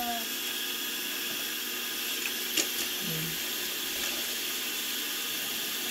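Tap water runs into a sink while a child washes dishes at home, a steady hissing stream that stays constant throughout with a faint clink or two, no one speaking.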